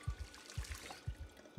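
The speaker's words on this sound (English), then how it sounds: "let's fill the water bottle" A water bottle being filled in the survival game Project Zomboid: soft, repeated low gurgling pulses of pouring water in a steady rhythm, heard alone and fairly quiet.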